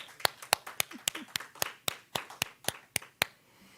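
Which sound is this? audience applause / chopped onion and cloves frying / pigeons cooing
audience applause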